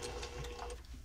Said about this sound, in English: So I'm going to stitch to the end of the corner, back stitch, and then stitch off that corner.